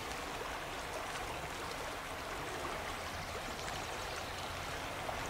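Gentle lapping water at the shore near L'Île-Rousse, Corsica, on a calm, windless day, a steady soft broadband wash with small irregular splashes throughout, fairly close, no voices.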